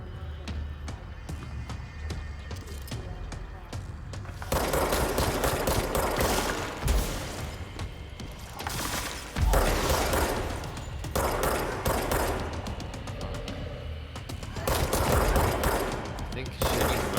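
Bursts of rapid gunfire in the action video game Control, loud fusillades starting and stopping in clusters over a low ambient bed, with occasional speech.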